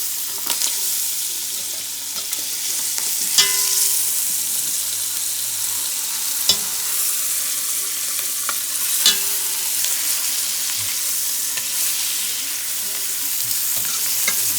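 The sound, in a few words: onion frying in a pan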